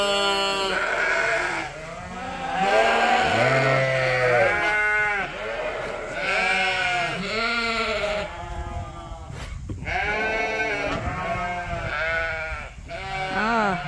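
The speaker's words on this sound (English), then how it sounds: "A ewe fight going on in here." A small flock of ewes bleating loudly and repeatedly in overlapping, quavering calls as three of them scuffle during feeding, with occasional thuds and shuffling between cries.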